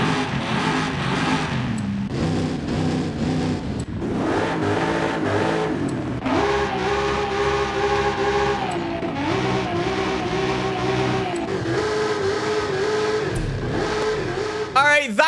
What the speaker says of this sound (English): Let's go through them, and I'm gonna rev them up and we'll pick one.